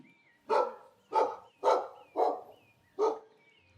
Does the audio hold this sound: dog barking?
yes